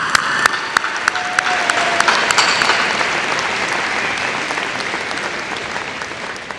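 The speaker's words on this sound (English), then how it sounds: "Can we give him a round of applause," Audience applause fills a high school graduation ceremony, a steady dense clapping from a large crowd that holds loud throughout and fades slightly toward the end, with a few sharper individual claps standing out.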